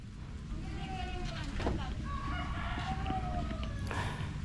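Chickens at a rural Filipino home crow and cluck in brief calls over a windy, rumbling outdoor background, with voices in the clip.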